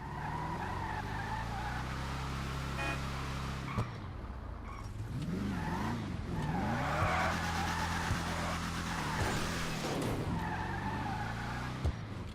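Game car engine revving and shifting through gears in a GTA V race, with tires skidding and squealing in bursts, loud and close throughout.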